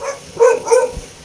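Dogs bark outdoors in the morning, with two or three short, sharp barks fairly close and loud, and no talking over them.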